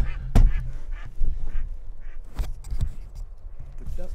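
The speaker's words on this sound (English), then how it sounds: "The ducks." Ducks quack near a wilderness shoreline in spring, a loose series of short nasal calls at uneven intervals, some close and fairly loud, others softer, over faint outdoor background.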